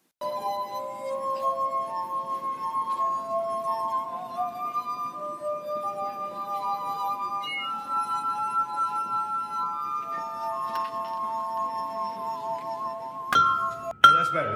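Drinking glass rubbed around its rim, producing sustained clear resonant ringing tones that shift between a few pitches for many seconds, close and steady, ending with a brief clink and louder rattle.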